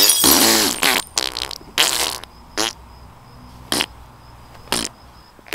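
A series of short, sharp sound-effect bursts used to cover up farts, about six of them spaced irregularly over several seconds, loud and close with quiet gaps between.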